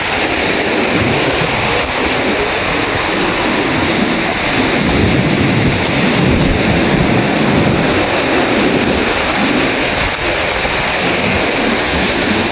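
Strong ocean waves crash and roar continuously on a beach, a loud, dense wash of surf with heavy wind rumble on the microphone and no voices over it.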